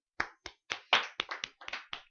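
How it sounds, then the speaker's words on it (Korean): Short bursts of hand clapping from a few people in a classroom, about ten uneven claps over two seconds, close by and fairly quiet, with no talking. "박수 한번 쳐줘"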